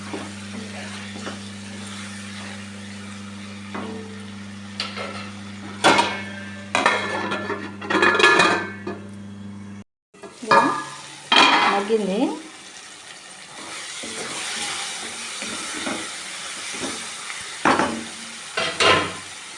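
Masala vada pulusu curry is stirred in a pot over high flame, with intermittent clinks and scrapes of a spoon against metal over a soft simmering hiss and a steady low hum in the first half.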